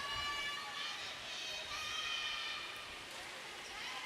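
Volleyball crowd at a Rizal versus Marikina MPVA match, fans screaming and cheering for the Marikina Lady Shoemasters, a loud continuous roar of massed voices filling the arena throughout.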